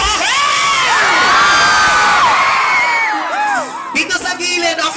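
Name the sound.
concert crowd cheering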